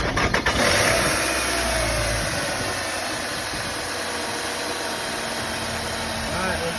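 A 2005 Nissan Altima 2.5S with a newly replaced serpentine belt cranks briefly and catches, then settles into a steady, close idle with a faint whine.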